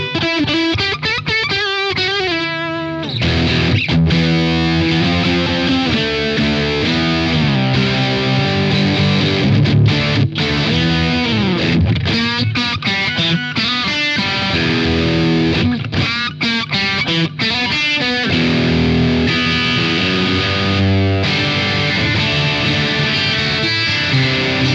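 Electric guitar with noisy single-coil pickups through a Valeton DS-10 distortion pedal in ultra mode with distortion at full, loud saturated chords and riffs played continuously with brief pauses between phrases.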